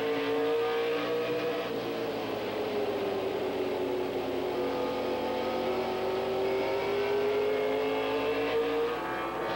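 Stock cars racing around a track in a 1997/1998 Winter Heat Winston Challenge race, engines roaring steadily with a rising then falling pitch as cars pass, loud and sustained, with no talk.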